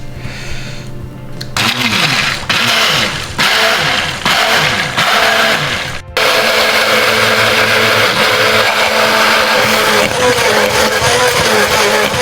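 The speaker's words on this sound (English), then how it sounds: "Just using a stick blender, we're going to create a nice emulsification here." A stick blender emulsifying mayonnaise whirs steadily, starting after a short pause, its motor pitch wobbling and stuttering briefly before settling into a continuous loud buzz.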